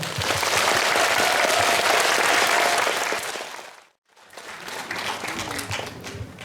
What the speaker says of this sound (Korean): 그럼 큰 박수로 시작하겠습니다